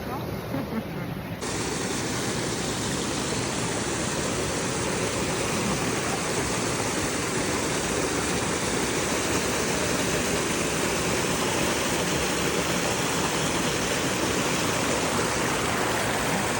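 A forest river rushes over stones among rocks and woodland, a dense, steady broadband roar that stays loud and unbroken throughout.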